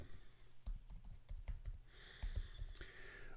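Keys tapped on a computer keyboard, a quick irregular run of close clicks, fairly quiet, with no one talking.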